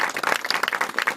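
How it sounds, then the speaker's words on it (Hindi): A brief burst of loud, dense applause from a crowd at a village celebration of Ambedkar's 132nd birth anniversary, many hands clapping together close by. "जोरदार ताली बजा के स्वागत करते हैं"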